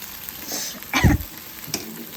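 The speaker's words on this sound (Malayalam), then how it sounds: "തക്കാളി ചമ്മന്തിയിൽ മുട്ടയിട്ട് പൊരിക്കുന്നതായി" An egg being fried in tomato chutney in a pan, a brief hiss of sizzling with a soft stir, short and close.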